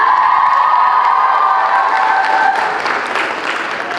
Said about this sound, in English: Can we have another round of applause for Prashami Dungana?